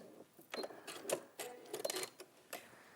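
A sewing machine stitches a box bottom seam in quick bursts of mechanical whirring and needle clatter, stopping and starting several times at close range, fairly quiet and with no voices.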